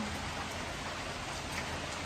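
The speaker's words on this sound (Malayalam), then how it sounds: "ഇപ്പം എല്ലാം മഴയല്ലേ ഇനി മഴയും കാറ്റൊക്കെ" Steady rain pours down in an even, close, continuous hiss with no breaks, heard alone without any voices.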